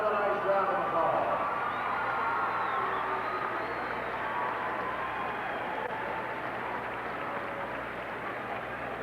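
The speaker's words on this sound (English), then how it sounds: "Let's give all these young ladies another nice round of applause" Crowd applause and cheering for the girls' teams at the 1991 Class AA high school basketball state championship, a broad steady wash of clapping in an arena, with an announcer talking over it.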